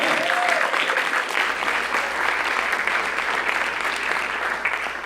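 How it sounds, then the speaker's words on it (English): A full audience applauds at a producer awards night in a stone church hall, a dense, steady wash of many hands clapping at once that holds loud for the whole stretch and fades only slightly at the end. "So, round of applause for"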